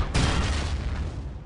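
A landmine detonates under a tank in the World War II shooter Battlefield 1942, giving a loud, deep explosive boom that rumbles on with a heavy, sustained low roar.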